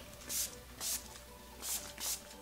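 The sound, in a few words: setting spray being sprayed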